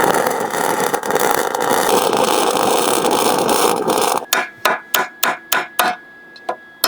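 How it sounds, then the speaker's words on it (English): MIG welding with a YESWELDER welding gun torch: a steady loud crackling buzz for several seconds, then a series of short sharp bursts as the trigger is pulsed, close up. "Now let's see how this thing welds up."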